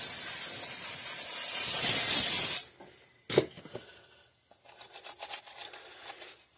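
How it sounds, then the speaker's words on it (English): A can of compressed air blasts a loud, steady hiss for about two and a half seconds while cleaning a Gallagher solar-powered electric fence charger, then stops, followed by a short burst and faint handling rustles. "Let's take a can of air. And we'll clean off this thing."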